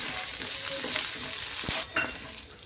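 Curry leaves and green chillies sizzle and fry in a hot pan, a close crackling hiss with a brief stirring scrape near the end and no speech.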